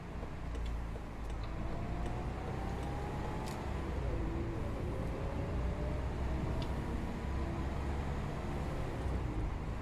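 Volvo B10BLE city bus with a ZF automatic gearbox driving in the Omsi 2 simulator, a steady low engine drone with rising gear whine sweeps and a few faint ticks, continuous and fairly close, no talking.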